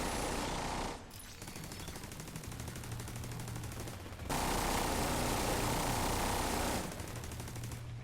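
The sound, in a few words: Warhound enemy machine gun fire from a video game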